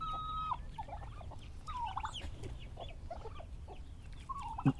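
A hen clucks in short, irregular bursts, soft and fairly close, with a brief louder squawk near the end.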